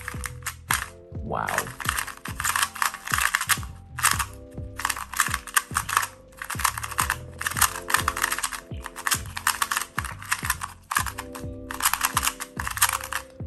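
A budget MoYu 2x2 speed cube, stiff and dry out of the box and not magnetic, turns in rapid bursts of crisp plastic clicks and clacks near the listener. A voice briefly reacts partway through.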